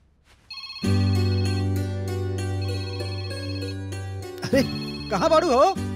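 A steady electronic ringtone melody plays loudly for several seconds, then breaks off as a voice begins speaking over the end.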